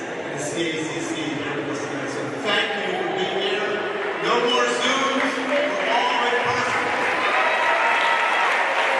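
Audience applause after a speech at an event, a steady wash of clapping from a crowd that holds at an even level throughout, with some voices mixed in.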